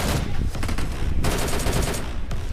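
DP machine gun fire in PUBG Mobile, close and loud rapid-fire bursts of evenly spaced shots, a brief pause near the middle, then another long burst followed by a final shot.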